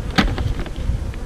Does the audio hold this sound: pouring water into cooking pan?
no